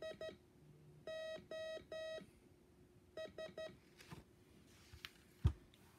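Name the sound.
Morse code SOS beep pattern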